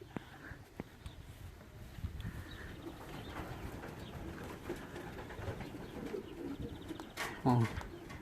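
Racing pigeons coo softly at the loft on the day of a 427 km race, low repeated calls mixed with wing flutters and someone talking nearby.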